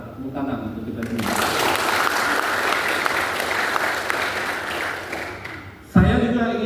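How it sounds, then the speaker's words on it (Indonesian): Audience applause at an alumni speech event, a loud sustained wash of clapping from a crowd lasting several seconds before cutting off, with a speaker's voice heard briefly at the start and again at the end. "Tepuk tangan untuk kita semua."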